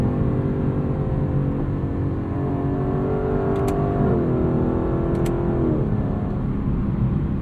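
A 2018 Lexus LC 500 engine revs loudly from the cabin, a strong sustained drone whose pitch climbs and then drops in steps as gears shift, with a couple of faint clicks along the way.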